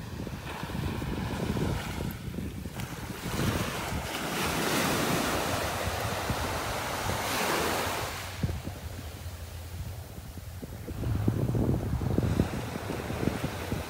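Gulf surf breaking and washing up a beach in North Naples, Florida, a steady rushing roar that swells and recedes, mixed with gusty wind buffeting the microphone, with no voices.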